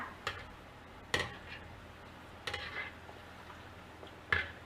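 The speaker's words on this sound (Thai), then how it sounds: "ทอดให้เป็นสีเหลืองทองเลยค่ะ" Shrimp cakes frying in oil give a faint, steady sizzle, broken by a few sharp scrapes and clicks as they are stirred in the pan; no talking.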